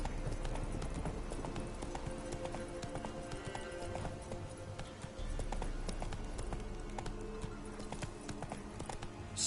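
Roach the horse galloping in The Witcher 3, a steady rapid clip-clop of hooves running throughout with a brief whinny, over ambient game sound.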